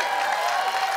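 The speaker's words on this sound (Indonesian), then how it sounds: "tepuk tangan dulu dong" An audience claps in a short burst of dense, steady applause.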